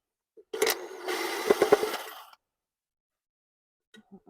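A screw being undone on a diesel heater: a nearby whirring, rattling burst of about two seconds with a few sharp clicks, followed by quiet and a couple of faint ticks.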